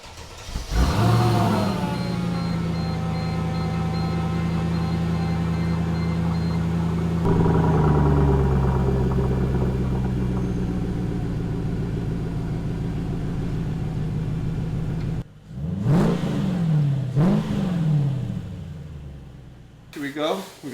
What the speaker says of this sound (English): let's get a quick little cold start in here